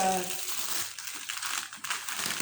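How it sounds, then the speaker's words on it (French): Close crackling and crinkling of bubble wrap, a busy rustle of small pops lasting a couple of seconds. "super, les super papiers bulles."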